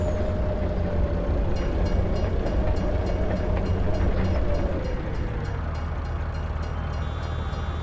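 A train rumbles past in Farming Simulator 19, its loud, steady roar and clatter filling the scene and then easing slightly as it moves on, with no talk over it.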